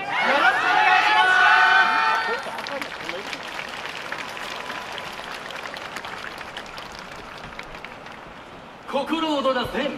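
Rhythmic audience hand-clapping at the YOSAKOI Soran festival in Sapporo, loud at first, then a dense crowd din under an announcer's voice, with clapping returning at the end.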